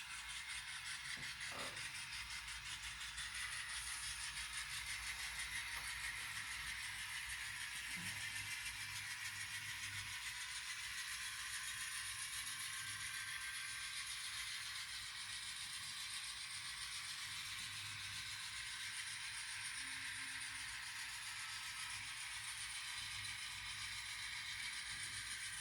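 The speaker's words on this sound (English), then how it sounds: "we got both trains running on the track" Two N scale model trains run on a layout track, giving a quiet, steady mechanical whirr and faint clicking rattle that continues without pause and without talk.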